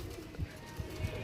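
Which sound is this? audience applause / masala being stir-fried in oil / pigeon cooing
pigeon cooing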